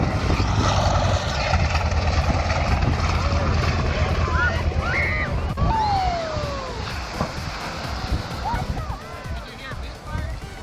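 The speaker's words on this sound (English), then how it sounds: "This is a vintage airplane." A vintage propeller airplane in flight gives a loud, continuous engine drone that barely changes. Voices talk over it throughout.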